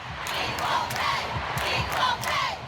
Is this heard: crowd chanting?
yes